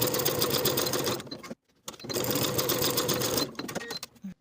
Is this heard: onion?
no